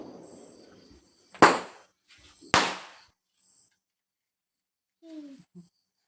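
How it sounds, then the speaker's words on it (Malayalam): Two sharp, loud firecracker bangs about a second apart during Vishu celebrations, each with a brief crackling tail, followed by quieter scattered sounds and a short voice. "പടക്കങ്ങൾ അതൊക്കെ പൊട്ടിക്കുകയാണ്"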